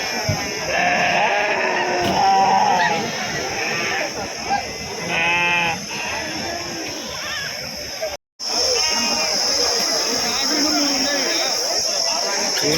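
Many sheep bleat repeatedly at Pebbair livestock market over a busy crowd murmur, with voices talking in the background and a short gap in the middle.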